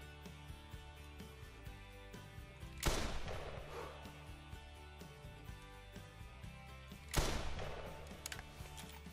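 Two rifle shots at a moose in the hunting video game theHunter Classic, each a sudden loud crack with a decaying echo, about four seconds apart, over a steady low game ambience with no talking.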